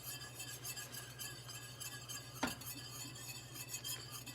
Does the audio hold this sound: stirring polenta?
yes